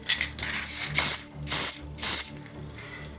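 Short hissing spray bursts coat a Warhammer Mechanicum Castallax miniature, four or five close, loud puffs in an uneven rhythm with mechanical clicks between them.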